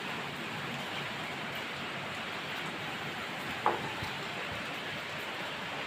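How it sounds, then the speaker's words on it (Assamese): Heavy rain falls steadily outside during cold weather, a dense, even hiss with no break, moderately faint and heard without talking. "বাহিৰত ধাৰাসাৰ বৰষুণ"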